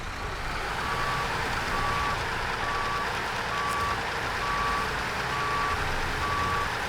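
A truck in the game SnowRunner, recovering a vehicle in Maine, sounds evenly spaced reversing beeps over a constant loud engine drone, about seven beeps in a steady rhythm.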